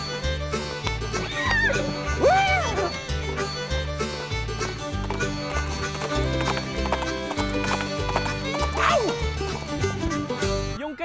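Horse hooves clip-clop in a rapid steady rhythm close by during a street festival parade in Baguio, with a whinny rising briefly twice, over background music and crowd voices.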